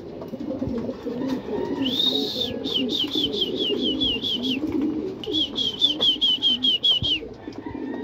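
Racing pigeons coo in repeated rhythmic runs over a murmuring background of voices and ambient noise, with two clear bursts of cooing, during a pigeon race training release.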